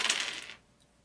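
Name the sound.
dice being rolled in a board game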